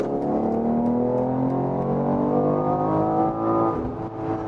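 A BMW X3 M Competition, 510 horsepower, pulls under gradual throttle from inside the cabin, its engine note a steady, rising drone with layered harmonics that swells loud and continuous throughout, no voices over it.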